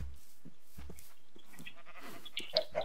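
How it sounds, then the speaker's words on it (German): Sheep bleats in a Minecraft farm game, a short digital bleat over a bed of game noise and low rumbles, fairly quiet. "geh rein, dummes Schaf."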